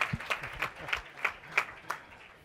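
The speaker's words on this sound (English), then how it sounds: "Round of applause for them." Scattered clapping from an audience at a TechCrunch 2010 presentation, with sharp claps landing in a loose rhythm over a soft background of crowd noise.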